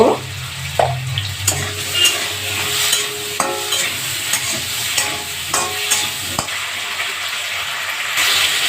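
Potatoes fry in a pan seasoned with salt and turmeric, giving a steady close sizzle broken by several scraping stirs and light clinks of a utensil, with no voices.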